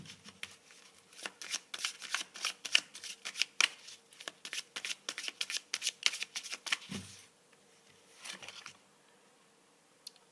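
Tarot cards are shuffled close up in a long series of quick crisp riffling bursts and soft flicks, pausing briefly before a few last snaps.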